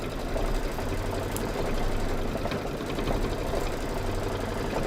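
A sewing machine stitches continuously at a steady fast pace, its rapid mechanical whir close and constant with no speech over it.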